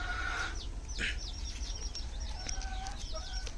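Native chickens cluck and chatter in short bursts over a steady low rumble, several birds close by with no voices.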